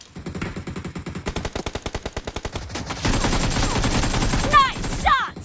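Rifle fire in a PUBG Mobile team deathmatch on a Redmi Note 8 Pro rattles out as a fast, even automatic burst, then continues as denser overlapping shooting with a couple of sharp effect sounds near the end.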